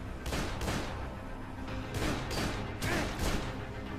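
Repeated loud bursts of gunfire in the video game Dead Island in quick succession, heavy and booming, with a constant noisy backdrop between the shots.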